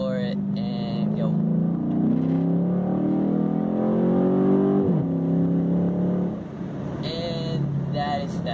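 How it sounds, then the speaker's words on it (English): A 2007 Chrysler 300 SRT8 floored in second gear, its engine note climbing steadily in a loud rising roar from inside the car before easing off as the revs drop. "we're in second gear here and we're gonna floor it and go."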